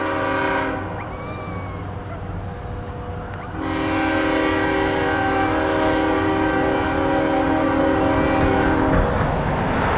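A CSX freight train of loaded ethanol tank cars passes near Shelby, moving from the main line to a siding, with sustained multi-tone horn blasts over a loud, continuous rolling rumble.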